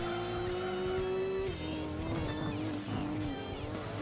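Car engine from the video game Gran Turismo 2, cutting across grass off the intended track, drones steadily and loudly throughout, its pitch dipping mid-clip as the car slows on the grass.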